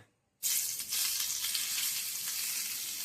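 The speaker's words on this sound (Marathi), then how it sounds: "तर आपण याच्यावर फोडणी घालणार आहोत." Hot tempering (phodni) poured over cooked curd rice erupts into a loud, bright sizzle after a brief silence, then holds a steady, close hiss to the end.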